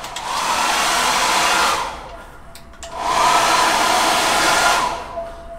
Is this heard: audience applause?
no